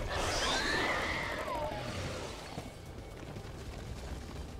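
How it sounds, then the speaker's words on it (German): A slimy creature blowing up in the Star Wars: The Old Republic video game, a loud whooshing blast with a sweeping, squelchy tone that fades into a steady low rumble of game ambience. "Da ist irgendwas Schleimiges explodiert"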